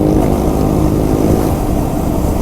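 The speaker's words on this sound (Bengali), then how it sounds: "এ ভাই সাইলেন্সার লাগিয়ে তো রাফ ড্রাইভিং করছে ভাই" A scooter with an aftermarket silencer being ridden roughly, its engine revving in a loud, continuous buzzing drone for a few seconds, close to the listener and without talking.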